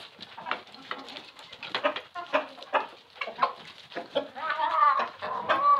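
Chickens on a small farm cluck and chatter close by in a busy, overlapping flock, with brief calls rising and falling throughout and a louder squawking stretch near the end.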